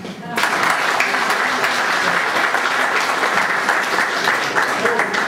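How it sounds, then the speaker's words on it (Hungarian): An audience at a wedding applauds the newlywed couple, steady loud clapping from a crowd that starts abruptly and sustains throughout. "azt szeretném megkérni a közönséget, hogy ismét tapsoljuk meg az ifjú párt"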